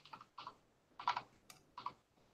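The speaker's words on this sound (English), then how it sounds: "You like that super loud ass computer or keyboard?" Keys clatter on a loud computer keyboard in short bursts of quick clicks with gaps between them, close and fairly crisp, with no one talking.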